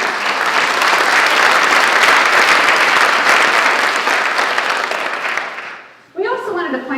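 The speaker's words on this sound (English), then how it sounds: "if we could give them a round of applause" A room of people at a commercial real estate forecast event breaks into sustained, dense applause that fades out before a voice begins speaking.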